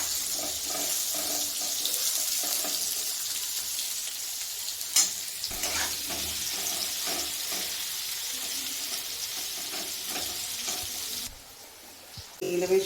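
Chunks of raw jackfruit frying in oil in a small batch, a continuous near sizzle with intermittent stirring and clinks, fading quieter toward the end, with no one speaking.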